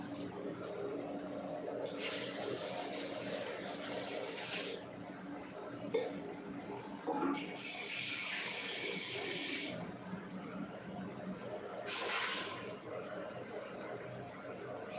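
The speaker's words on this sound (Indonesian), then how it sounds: "saya tambahkan air." Water poured into a container of cyanide-process rock waste being neutralized, heard as three broad gushing bursts of a few seconds each over a steady background.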